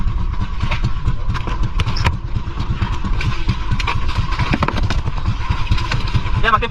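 Running engine, likely a motorcycle-type motor, loud and steady with a constant rumble and clatter through the whole stretch, with people talking in Tagalog nearby.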